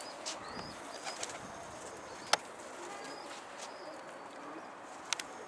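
A stray Bango pigeon lands among rival pigeon lofts with a few brief wing flaps and clatters, pigeons cooing faintly amid steady outdoor background noise.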